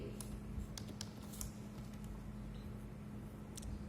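Fingers type on a computer keyboard while HTML is entered, producing soft, scattered clicks under a steady low hum, quiet and close with irregular spacing.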